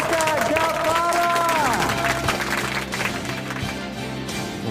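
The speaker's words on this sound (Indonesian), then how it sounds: "kita berikan sambutan tepuk tangan yang lebih meriah lagi untuk Jazan Aska Gapara" Audience applause for a competition winner, clapping and light cheering mixed under music with sustained tones, moderately loud throughout.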